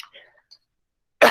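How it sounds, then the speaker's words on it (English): In a ceramics class, after a few faint, soft noises and a moment of near silence, one sharp, close cough bursts out at the very end. "Oh, so sorry about the coughing."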